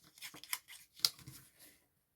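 Scissors snip through paper bee tags in a paper craft project, a few quick close cuts with crisp rustling between them, ending in silence.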